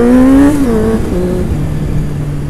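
A motorcycle engine revs hard during a wheelie attempt, a loud close rev that sags in pitch and then holds a steady throttled drone.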